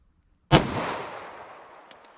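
.45 ACP +P round fired from a 5.3-inch Glock pistol: one sharp, loud report bursting from silence, followed by a long, slowly fading echo that trails off over about two seconds.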